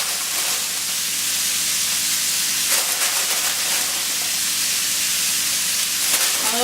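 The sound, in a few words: bean sprouts sizzling in stir fry pan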